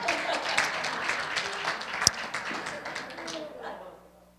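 A church congregation gives a round of applause, a dense wash of clapping with one sharp louder clap midway, fading out toward the end.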